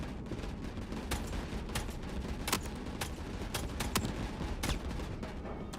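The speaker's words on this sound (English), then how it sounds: "That's turret fire." Turret fire in Star Citizen near an ANVIL Asgard heavy vehicle transport: a steady stream of distant, irregular cracking shots over a constant rumbling bed of ship and environment noise.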